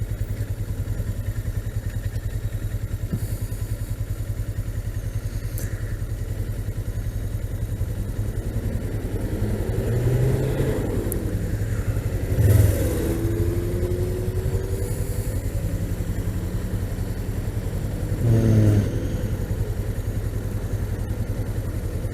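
Suzuki GS500F motorcycle moving through traffic, its steady engine drone and road rumble continuous throughout, with a couple of louder clattering bumps and passing-vehicle swells midway and near the end.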